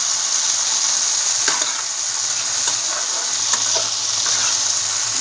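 Vegetables for chow mein, including capsicum, fry in a hot pan with a loud, continuous, close sizzle, broken by occasional light utensil taps and clicks as they are stirred.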